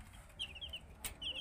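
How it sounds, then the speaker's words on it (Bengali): Colombian Light Brahma chicks chirp close by, giving several short, high peeps over a faint low background hum. No one speaks. "এখানে এগুলো হচ্ছে সবই অরিজিনাল কলম্বিয়ান লাইট ব্রাহ্মার বাচ্চা"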